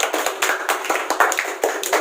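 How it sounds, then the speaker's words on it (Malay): A small group claps during a classroom practical teaching session, with uneven bursts of hand claps close by, fairly loud and a little ragged in rhythm across two seconds. "Tepuk tangan sikit untuk program."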